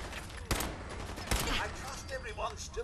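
Gunfire from a firearm in the video game Fallout 4: two sharp, loud shots about a second apart, each a sudden broadband crack, over a steady background of game ambience and noise.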